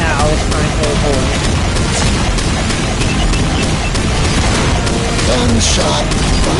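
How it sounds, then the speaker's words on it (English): Gunfire from the Roblox game Call of Mini Zombies 2 crackles in loud, dense bursts with deep booms, nearly continuous throughout, and a voice can be heard talking over the shooting. "Gunshot."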